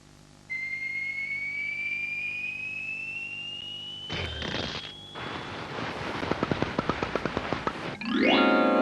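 Cartoon firework display finale: a long rising whistle climbs for several seconds, then bursts into loud crackling bangs and a rapid run of sharp pops, ending in a final fizzing burst.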